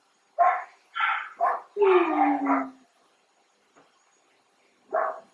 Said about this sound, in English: I do apologise if you can hear the mad dogs barking.